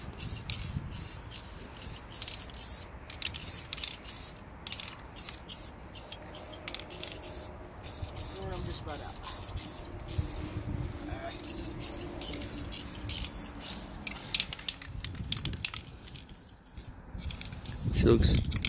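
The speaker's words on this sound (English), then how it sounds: "I'm having to paint upside down because the can's like empty." A nearly empty spray paint can held upside down sprays paint, a continuous hiss broken by short sputtering bursts and pauses, close and moderately loud.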